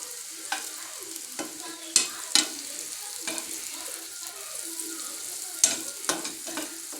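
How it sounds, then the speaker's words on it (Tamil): Slices of nendran banana frying in ghee on a nonstick tawa, a soft steady sizzle broken by occasional sharp scrapes and taps of a spatula, close up with no talk. "இது எதுக்காக நெய்யில் போட்டு நல்லா ஃப்ரை பண்ணுறேன்னா, நெய்யில் போட்டு ஃப்ரை பண்ணுறப்போ"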